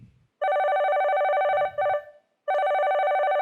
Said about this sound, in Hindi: मिसेस भोसले का फोन आया है।